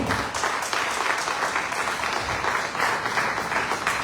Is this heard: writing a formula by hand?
no